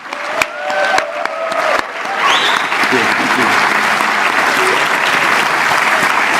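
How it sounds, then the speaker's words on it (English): An audience at the Formula Student 2023 engineering competition bursts into loud, sustained applause and cheering for the teams, clapping that swells and holds steady after a few scattered early claps. "If we could have one big last round of applause for these teams who've done so well"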